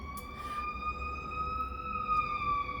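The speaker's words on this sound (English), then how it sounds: "Of course, there's a siren." A wailing siren holds a steady, slowly wavering tone, moderately loud and a little distant, over a low background rumble.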